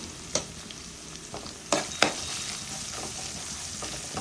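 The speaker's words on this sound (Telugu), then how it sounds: "ఆనియన్ ఫ్రై అయింది ఇప్పుడు అల్లం వెల్లుల్లి పేస్ట్ వేసుకుని అది కలుపుకొని" Onions fry in a pan with ginger garlic paste stirred in for a Telangana goat blood fry, a soft steady sizzle with a few sharp scraping clicks from the spoon, close and quiet.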